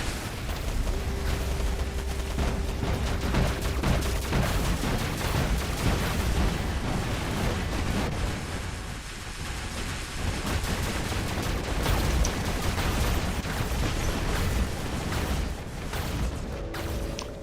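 Heavy gunfire and explosions from a video game battle fill the clip, a dense, loud, continuous barrage of booms and shots with no pause and no talking.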